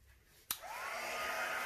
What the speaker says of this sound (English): Now I'm just going to use this embossing tool that I've got.